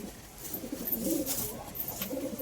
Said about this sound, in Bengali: সম্পূর্ণ সুস্থ পায়রা, সিঙ্গেল পায়রা